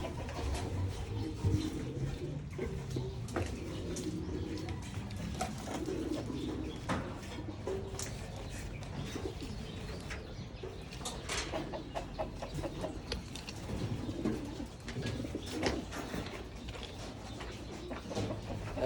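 Young pigeons in a loft, with soft repeated cooing and low calls from several birds, some near and some farther off, over a quiet background and occasional rustling and clucking.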